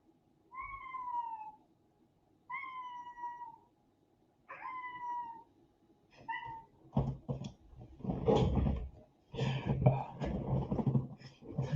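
A cat meows three times in evenly spaced, clear calls, then further meows and rustling noises follow more irregularly, with nobody talking.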